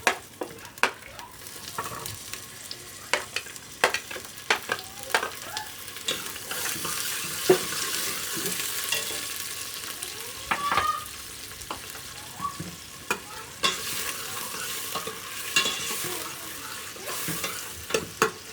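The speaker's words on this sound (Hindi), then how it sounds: "हमने घी डाल लिया, इसमें प्याज डालेंगे।" Steady crackling sizzle of onions frying in hot ghee, with occasional sharp clicks and scrapes of stirring; close and continuous, no voices.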